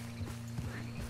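Horse hooves clip-clop in Red Dead Redemption 2, with a few soft irregular hoof falls over a steady low game hum and background drone, fairly quiet and close.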